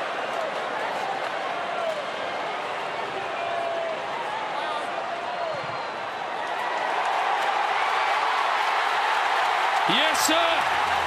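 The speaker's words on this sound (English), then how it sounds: "Listen to the crowd here at the G if he sticks this through." A stadium crowd at the MCG rumbles as a broad, steady roar while Buddy Franklin lines up a kick for goal in an AFL match. The swell builds toward the end.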